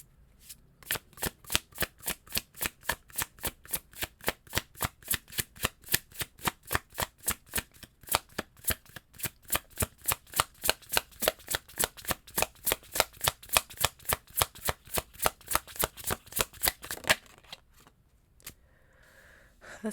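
A tarot deck is shuffled by hand in a long, steady run of rapid riffling snaps, close and fairly quiet. The shuffling stops near the end.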